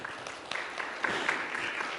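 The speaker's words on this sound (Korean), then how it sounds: "제 아내한테 여러분 감사의 박수를 한번 보내주시면" Congregation at a Sunday church service claps in thanks, a fairly soft, steady patter of many hands lasting a couple of seconds with no voices over it.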